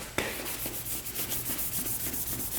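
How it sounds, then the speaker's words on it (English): An aluminum part from a two-stroke dirt bike is rubbed and polished with quick, rhythmic back-and-forth strokes, close and moderately quiet, after a sharp initial knock. "Oh yeah, that one's polishing up."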